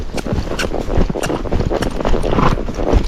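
Hooves of a Tennessee Walking Horse thud in a quick, uneven rhythm as it gaits and moves toward a canter outdoors, the footfalls close and continuous with wind noise throughout.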